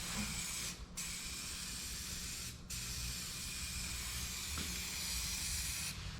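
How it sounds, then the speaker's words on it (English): A color-matched rattle can of spray paint hisses steadily onto a part of a 1984 Chevy S-10 truck, with three brief gaps between long, close bursts. "got our color match rattle can right here"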